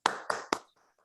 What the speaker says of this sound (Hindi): एक बार जोरदार तालियां राजकुमार जी के लिए